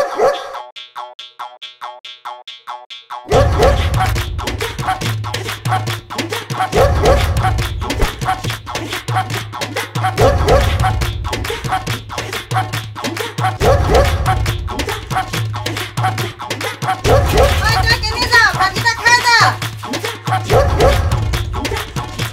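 A dog barks repeatedly in short yips and bow-wows scattered through a comedy episode scene, set over a looping musical backing with plucky, bouncy effects after a quiet opening.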